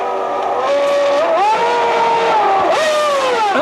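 1996 Formula 1 race cars, including a Ferrari, screaming past at close range with a loud high-pitched engine wail that rises and shifts as each car passes, with gear changes audible.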